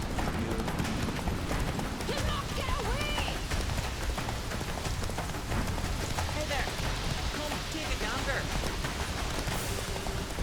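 Roach, Geralt's horse in The Witcher 3, gallops hard with a rapid, continuous drum of hoofbeats up close, set against steady rain-like noise while voices speak over it.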